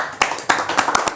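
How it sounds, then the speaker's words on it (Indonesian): A few sharp, close hand claps ring out in a studio interview setting, about five distinct claps spaced unevenly over a second. "Tepuk tangan semuanya."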